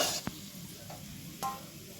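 Cashews and raisins frying in oil, a soft low sizzle with a few distinct scraping stirs of a spatula, close and fairly quiet.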